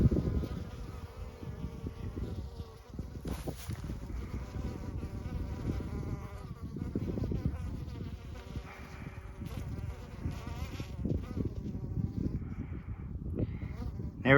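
Honeybees swarm at a farm hive as they bring in pollen, giving a dense, continuous buzz that carries throughout, with a voice talking over the humming.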